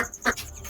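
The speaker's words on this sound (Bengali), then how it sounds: "এই যে এখানে দেশি মুরগি আর বাচ্চা ছেড়ে দিয়েছি, খাবার দিয়েছি, খাচ্ছে" Free-ranging native hens with their chicks, feeding on scattered grain, let out a single short cluck amid faint outdoor background noise.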